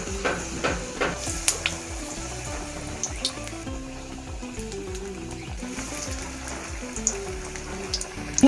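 Fritters and vegetable chops, including potato, coriander-leaf and eggplant pieces, frying in hot oil in a wok: continuous close sizzling with irregular bubbling pops and occasional clinks, no talk.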